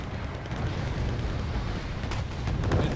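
Mortar fire in the war strategy game Wargame Red Dragon, dull booming blasts rolling together into a continuous rumble that swells toward the end, moderately loud.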